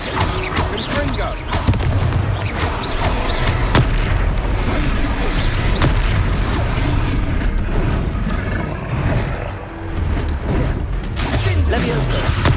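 Confringo fire spell blasts in the Hogwarts Legacy video game, a dense stream of booming explosions and bursts throughout, layered with combat effects and shouted spell voices.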